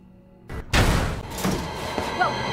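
Gunfire bursts in Resident Evil 2 Remake, a sharp onset followed by a dense ongoing volley that stays fairly loud and busy, with game ambience underneath.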